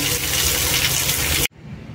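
Water gushes steadily from a shower-style tap head at a weak-flow faucet, a loud continuous rush that cuts off abruptly after a second and a half.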